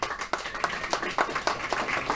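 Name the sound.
audience applause for champions at Mind Sports Olympiad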